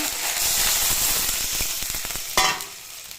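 Spice paste hits hot oil already holding cumin and bay leaf for a mustard fish dish, giving a loud, steady crackling sizzle that flares in a sharp burst near the end.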